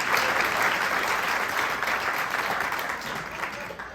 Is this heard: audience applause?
yes